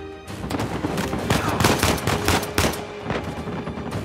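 Pistol gunfire in the Uncharted 4 game rings out in rapid, overlapping shots and cracks during a dense firefight, loud and continuous with no pauses.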